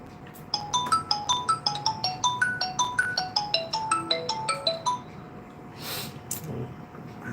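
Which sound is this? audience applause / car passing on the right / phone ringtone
phone ringtone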